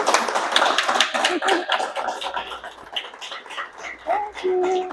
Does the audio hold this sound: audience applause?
yes